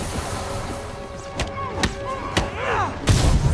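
Several sharp booming thuds and an explosive burst near the end in the Marvel's Spider-Man video game, mixed with background voices and game effects.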